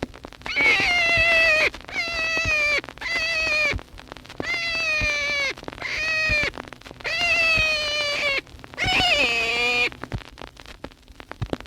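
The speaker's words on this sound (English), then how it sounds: "Here's the distress cries of a jackrabbit, the first actual wild rabbit sound ever recorded for game callers." Recorded distress cries of a wild jackrabbit, made for predator game calling, come as about seven shrill, wavering wails in a row, loud and close, separated by short pauses over a faint background hiss.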